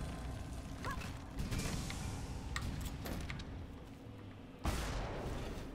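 Bomb blasts and mechanical clatter in Lara Croft and the Temple of Osiris, several sharp bursts scattered over a busy rumbling game background, with one stronger crack near the end; no talk.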